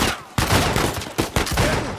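Gunfire in the video game Uncharted 4: A Thief's End, a loud, close fusillade of rapid shots with several sharp bursts landing in quick, uneven succession.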